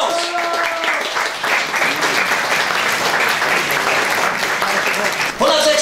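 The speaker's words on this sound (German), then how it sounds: "Wir begrüßen mit einem großen Applaus Klaus Fock! Großer Applaus für Klaus!" A crowd at a public viewing applauds to welcome a former player, a dense sustained round of clapping mixed with cheering and voices that carries on throughout.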